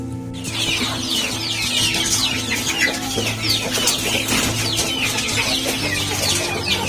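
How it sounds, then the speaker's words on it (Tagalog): One-week-old Rhode Island Red chicks, about a hundred of them, cheep in a dense, continuous chorus of overlapping high peeps close by, with a steady hum underneath and no talking. "Ito yung mga Rhode Island Red na inaalagaan ko ngayon. Ito ay 100 heads Rhode Island Red."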